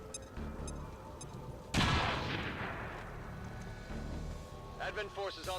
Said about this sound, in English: There you go, grenade over the top.